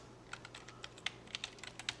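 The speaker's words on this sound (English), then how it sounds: "I'm intentionally typing in lowercase." Rapid typing on a computer keyboard during web page building, with irregular light key clicks and a few sharper, louder taps, close and clear with no talking.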